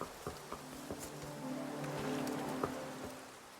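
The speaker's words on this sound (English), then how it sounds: "Miss Sui, you were the one who got caught in the rain." Rain falling in the video game Infinity Nikki, a steady soft wash with scattered droplet taps, moderately close and fairly quiet, with gentle game music tones underneath and no talking.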